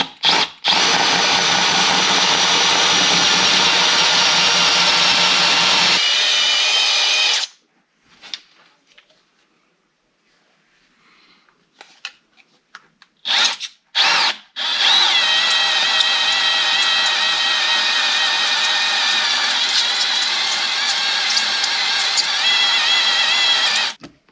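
A power tool grinds notches into a stock fuel pump basket for a Walbro 525LPH pump, a loud sustained whine that stops for a quiet pause with brief bursts, then resumes for a long steady cut.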